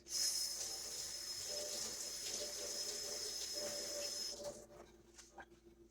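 A measuring cup is rinsed under a running kitchen tap, giving a steady hissing stream of water for about four seconds before it cuts off, leaving a few faint drips and clinks.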